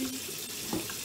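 A kitchen tap runs steadily into a sink being filled for washing up with Fairy washing-up liquid, making a brief, even gush of water at moderate loudness with no talking.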